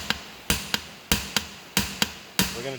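Sharp metallic hammer blows against a multifuel injection pump to loosen it by vibration: about nine close, loud strikes in an uneven rhythm, each with a short ringing decay.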